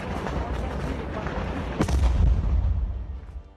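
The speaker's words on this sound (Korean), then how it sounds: "바로 지척에서 포탄이 터지며 일대를 뒤흔드는 엄청난 폭발이 일어났지만" An artillery shell bursts nearby in a Donbas frontline trench, a sudden heavy boom cutting through steady rumbling battlefield noise and leaving a deep low roll that fades out.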